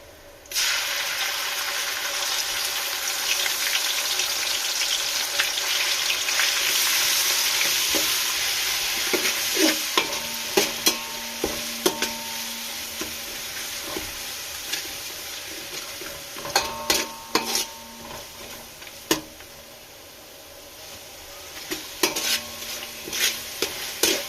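Tomato and ginger-garlic paste sauté in hot oil with fried onion and garam masala for egg biryani, a steady close sizzle broken by scattered clicks and scrapes of a stirring spoon against the pan, with no talking.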